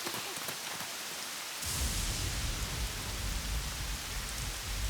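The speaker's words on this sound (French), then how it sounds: "Je crois qu'il va pleuvoir pendant encore un bon moment." Rain in the Robocar Poli cartoon starts abruptly as a loud, steady downpour of broadband hiss, with a faint lighter patter before it and a low rumble beneath the rainfall.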